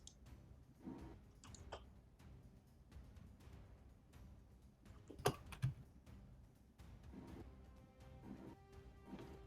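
Soft, faint computer keyboard typing in scattered clusters during a tabletop role-playing game session, with a couple of louder knocks partway through and no talk.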